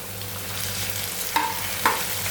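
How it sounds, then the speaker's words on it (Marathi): Chopped onion, tomato and thecha sautéing in a pan, a steady low sizzle with two soft knocks of a spoon stirring, close and alone with no voices. "व्यवस्थित परतूया"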